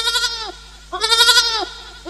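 Goats bleat loudly in two wavering calls separated by a short pause, close to the microphone, in a rural village setting, with a low steady hum underneath and no talk.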